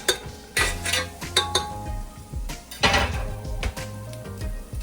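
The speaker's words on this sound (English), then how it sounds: "And we're gonna go ahead and give this a nice little stir." A spoon scrapes and clanks against a pot while onions are stirred for chili, giving loud, irregular metallic knocks and scrapes in quick bursts, close up with no talking.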